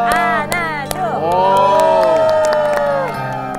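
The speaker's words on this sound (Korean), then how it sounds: "박수 한번 드릴까요?" A studio audience at a Korean TV variety show breaks into applause and cheering, with a dense burst of clapping and whoops swelling over a few seconds, mixed with excited shouts and voices.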